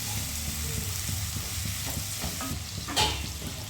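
Onions fry in hot oil with a steady, close sizzle while a spoon stirs and scrapes the pan, with a brief louder clatter near the end and no talking.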